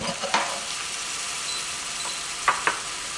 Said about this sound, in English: I'm just going to stir the spices round now